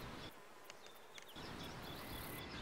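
Honeybees buzz softly and steadily while foraging among flowers. The hum is faint and continuous, with a brief dip partway through, and no voices.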